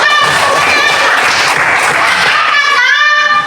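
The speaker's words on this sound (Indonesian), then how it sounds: "Jawabannya tepuk tangan dulu" Applause in a classroom during a teacher's question-and-answer session, a dense, steady patter of many hands clapping together for several seconds, with voices and noise mixed in near the end.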